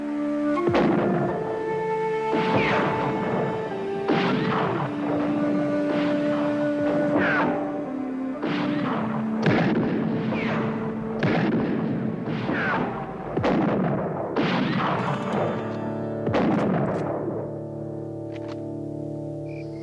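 Gunfire in a western movie shootout, a rapid series of loud cracks and booming shots over about twenty seconds with a dense, echoing mix and sustained tones underneath.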